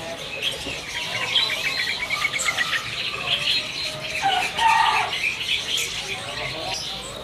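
Lovebirds chirp and squawk at a kiosk in Pramuka bird market, bright overlapping calls at close range while someone talks beneath them.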